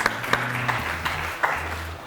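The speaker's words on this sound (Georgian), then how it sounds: "აპლოდისმენტები კიდევ ერთხელ კარიატიდას" A live audience at a student team quiz contest claps for the team Karyatida, a short burst of applause with a few sharp claps rising above it, over a low murmur of voices.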